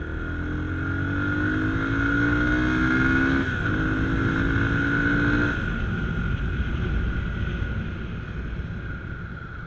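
Yamaha FZ25 motorcycle ridden through busy Bangalore streets, its engine droning steadily and rising in pitch through the gears, with a gear change midway and road noise throughout.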